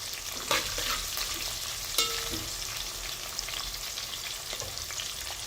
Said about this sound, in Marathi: जिरे आणि कांदा टाकून घेतला आहे तेलामध्ये।